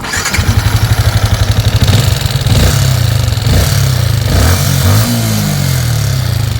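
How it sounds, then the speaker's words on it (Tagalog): Noisy Yamaha Sniper 155 motorcycle engine, suspected of a clogged oil passage, running close and loud with a steady low throb that rises slightly in pitch partway through, no voices. "kung marinig nyo ay talaga namang maingay ang kanyang motor"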